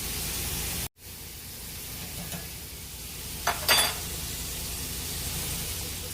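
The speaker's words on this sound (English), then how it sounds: "Now we're just going to stir." Quarter grits stirred in a pot, a continuous broad hiss and scraping wash with a sudden brief drop near the start and a short louder scrape midway, close and steady, without talk.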